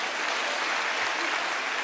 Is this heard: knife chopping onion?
no